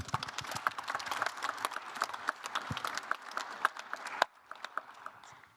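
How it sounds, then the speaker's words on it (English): An indoor audience at a pitch event claps briefly, a dense burst of applause that cuts off and trails into a few scattered claps. "So, Green Dev team, a big applause for you."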